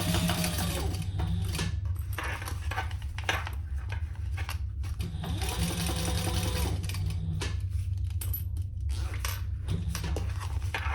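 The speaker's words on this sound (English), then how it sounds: "So I'm just going to top stitch 1/8 of an inch." A sewing machine top stitches a crossbody bag, running in a steady, continuous whir close by with small rhythmic variations and no pauses.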